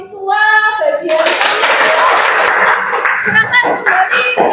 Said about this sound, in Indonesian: tepuk tangan untuk kelompok visual bagian